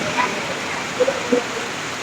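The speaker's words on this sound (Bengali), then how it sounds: "মুষলধারে বৃষ্টি হচ্ছে আমাদের চাঁদপুর জেলা শাহরাস্তি থানাতে।" Heavy rain pours down at night in Shahrasti, Chandpur district, Bangladesh, a dense, loud, steady hiss of falling water with a couple of faint faraway sounds underneath.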